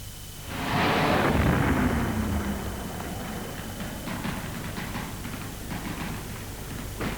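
Aerial bombing over North Vietnam: a heavy rumbling blast swells up near the start and rolls on into a long, dense roar with scattered crackles.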